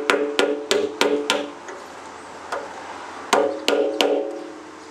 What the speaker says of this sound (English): generally I'll take my fencing pliers or a really tiny ball peen hammer